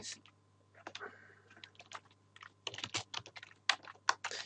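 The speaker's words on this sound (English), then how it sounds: "my keyboard is very temperamental today" Typing on a computer keyboard during a Python programming lesson: quick irregular clusters of close, crisp key clicks with a brief pause, then a faster flurry.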